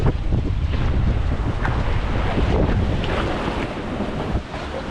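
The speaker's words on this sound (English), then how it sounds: "Water's getting real choppy" Choppy water slaps and churns around a boat beside a tied-up barge during a boathouse lift install, with steady, loud wind buffeting the microphone throughout.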